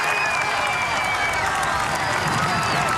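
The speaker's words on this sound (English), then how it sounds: "So as they continue now to cheer on" Roadside spectators cheer and clap continuously as riders pass during a climb on stage 7 of the 2009 Tour de France, a dense steady crowd roar with whistles rising above it.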